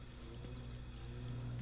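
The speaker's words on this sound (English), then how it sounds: "Why can't I use the wrench to turn off this faucet?" In a video game, a faucet runs with a steady stream of water that pours continuously at a moderate level under a low, constant background hum, with no voices.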